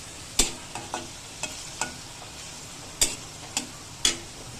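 Minced beef with a little turmeric fries in a pan for a beef bhorta, a steady sizzle under repeated sharp scrapes and taps of a utensil stirring against the metal, close and fairly quiet, with no talking.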